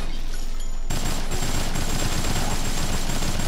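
Rapid automatic gunfire from a rifle in the video game Dead Rising bursts in after a brief quieter moment, a dense, loud rattle of shots that continues steadily to the end.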